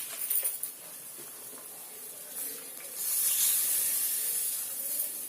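Water is poured into a hot pan of taro root curry, giving a soft hiss and spray that swells midway and carries on quietly, with no voices.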